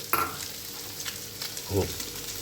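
Pieces of tandoori chicken sizzle in a pan of oil, mixed with a couple of sharp stirring clatters and scrapes close by.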